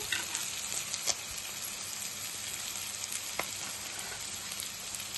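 Chicken masala fry sizzling steadily in an uncovered pan, a continuous close hiss of frying with a few faint clicks of stirring on top, no voices.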